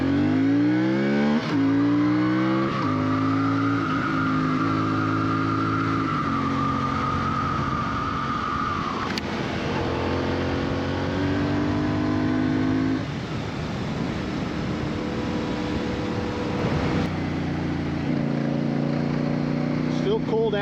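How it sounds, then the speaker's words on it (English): A CF Moto CL-C motorcycle pulls away along a road in cold weather, its engine note climbing repeatedly through the gears in rising whines, heard steadily from the rider's position throughout. "I just give it throttle and it accelerates."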